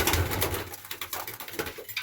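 An Iranian pigeon gives soft, repeated cooing calls close by, in short throaty pulses over a couple of seconds.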